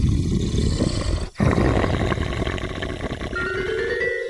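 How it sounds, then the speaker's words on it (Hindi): A menacing growl sound effect for a Hindi horror story rumbles low and loud for several seconds, briefly broken by a sharp gap, then continuing as a rough snarling roar that fades into a thin tonal whine. "तभी अचानक से किसी के गुर्राने की आवाज आती है।"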